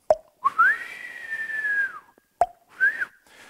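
Electronic tones stand in for the ball in a Wii-style racket game played through corner speakers: a sharp pop followed by a sustained sliding whistle, repeated, clear and fairly close.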